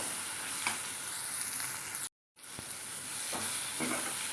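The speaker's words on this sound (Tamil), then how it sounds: "இப்போ தக்காளியை சேர்த்து நல்லா வதக்கிக்கலாம்." Tomatoes sauteing with okra in a pan for a Tamil vendakkai vatha kuzhambu give a steady, close sizzle. A few soft stirring clicks sound through it, and there is a brief drop to silence near the middle.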